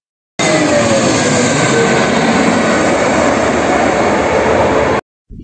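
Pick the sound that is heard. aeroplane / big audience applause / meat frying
aeroplane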